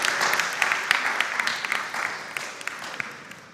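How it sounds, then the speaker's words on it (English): An audience at a school quiz competition claps for a competing school team, a moderate spread of scattered handclaps with distinct individual claps popping out, gradually thinning over a few seconds. "Please clap for them"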